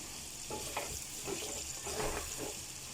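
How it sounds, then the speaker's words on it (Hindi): Goat kidney and liver fry with salt in a pan, a soft, fairly quiet hiss with gentle intermittent stirring scrapes, heard alone without speech. "तो अच्छे से इस तरह से नमक मिक्स कर लीजिएगा। तब तक हम इसमें भुनाई करेंगे।"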